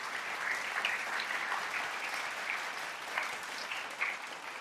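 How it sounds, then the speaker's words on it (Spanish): Church congregation giving sustained applause to the Lord, a steady dense wash of many hands clapping throughout, moderately loud with no speech over it. "aplauso al Señor."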